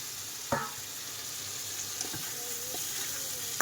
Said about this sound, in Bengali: এই যে দেখো এবার কষাই করে রাখা আলুগুলো দিয়ে দেবো।